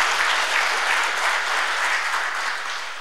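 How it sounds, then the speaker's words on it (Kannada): A crowd claps steadily at a Kannada stand-up comedy performance by Gangavathi Pranesh at a private resort, a full, even patter of many hands that swells slightly and then eases off toward the end. "ಬಂಧುಗಳೇ, ನಮಗಾಗಿ ಅಲ್ಲ, ತಮಗಾಗಿ ಒಂದು ಚಪ್ಪಾಳೆ"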